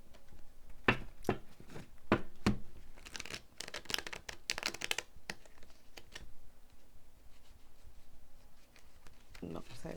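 A deck of cards is shuffled and riffled in a few short crisp bursts, close and fairly quiet, followed by softer handling noises, with a person speaking nearby.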